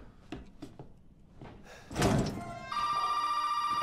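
A telephone rings in the horror video game Resident Evil 7, a steady electronic bell tone starting partway through after a few soft knocks and a thud of a door-like slam.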